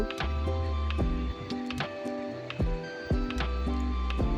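A sewing machine stitches elastic into a salwar, its mechanical whirring starting and stopping in short bursts with clicks and ticks between runs, close and clear.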